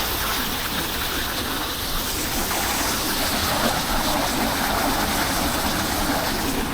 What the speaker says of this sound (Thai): นี่ก็น้ำตก